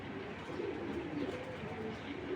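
A Giribaz racer pigeon coos softly in a steady murmur, the low throaty calls repeating close by without pause, with no voices over them.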